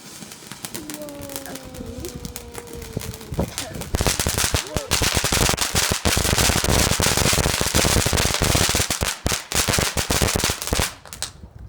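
Fireworks set off outdoors on Bonfire Night: loud, rapid crackling bursts and bangs pile up densely after a few seconds and carry on continuously, with people shouting and talking close by at the start.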